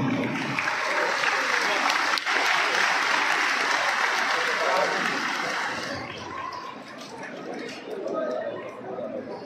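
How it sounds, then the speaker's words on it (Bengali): Audience at a religious gathering at a dham in Hooghly breaks into loud, sustained applause that fills the space, with crowd chatter mixed in, then fades and thins toward the end. "সকলে মিলে একবার হাতে করতালি দিয়ে ওনাকে উৎসাহিত করুন"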